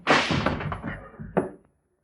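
A gunshot sound effect in an old-time radio detective drama: one sharp, loud report cracks out after a burst of shouting, then a second hit follows and the sound cuts off into silence.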